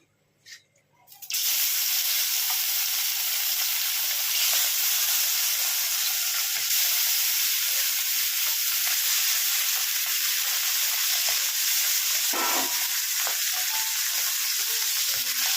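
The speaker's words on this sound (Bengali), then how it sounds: "এইভাবে আমি মাছগুলোকে ভেজে নিচ্ছি" Bata fish fries in hot oil in a pan, starting with a sudden loud burst of sizzle that holds as a dense, constant crackling hiss with a brief stir near the end.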